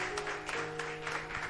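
Applause from a church congregation during an evening worship service in Rio Negro, Paraná, a dense, steady patter of many hands clapping throughout the short stretch.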